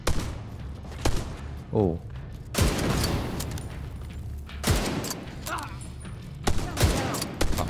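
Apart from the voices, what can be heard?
grenade explosion and gunfire in the video game Tom Clancy's The Division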